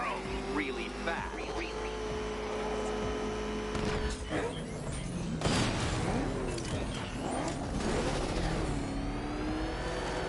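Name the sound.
Batmobile engine revving, from video game Batman: Arkham Knight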